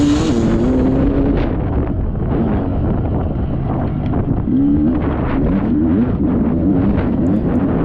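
2-stroke and 4-stroke dirt bikes racing a GP lap on a motocross course, engines revving and shifting in a continuous loud drone with heavy wind buffeting the microphone, no voices.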